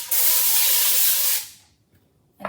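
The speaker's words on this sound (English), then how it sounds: "I'm just gonna use some spray so that the bagels don't stick to the bottom" Cooking spray hissing onto an aluminum-foil-lined air fryer basket, a single loud, steady burst of about 1.3 seconds that cuts off sharply, followed by a short quiet pause and a faint clack.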